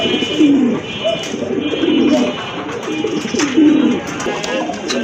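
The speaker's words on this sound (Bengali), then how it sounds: "আরেক জোড়া কবুতর, এটা হচ্ছে আপনার ফ্যান্ডেল কবুতর" Fantail pigeons coo in soft, repeated rolling phrases, close by at a pigeon sale, with faint background chatter and rustling throughout.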